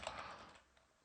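Quick burst of computer keyboard typing, several close, soft clicks that trail off into quiet after half a second.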